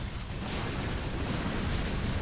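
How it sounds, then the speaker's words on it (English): Explosions from a StarCraft match rumble and burst in a dense, continuous barrage, loud and steady throughout with no voices over them. "That's a lot of explosions."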